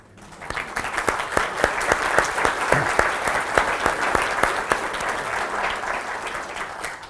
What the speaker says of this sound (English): I think everybody might want to give you a round of applause.